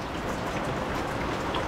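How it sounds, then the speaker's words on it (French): Heavy rain pours steadily for the whole short stretch, a dense, even hiss with constant close patter of drops and no other sounds. "C'est reparti aujourd'hui, grosse pluie, je recueille de l'eau, ça fait demi-heure qu'il pleut"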